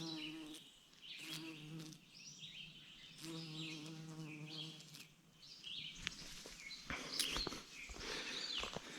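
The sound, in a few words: bees buzzing around an algae-covered pond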